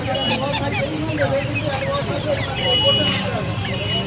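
Hens and roosters at a busy Uluberia poultry market cluck and call in a dense, continuous jumble, mixed with crowd noise and people talking nearby.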